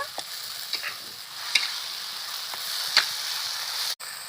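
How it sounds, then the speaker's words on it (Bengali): Spices and tomato paste sautéing in a pan for a Bengali rohu fish curry, with a steady soft sizzle and a few light spatula taps. "মশলাগুলোকে একসাথে ভালো করে কষে নেব"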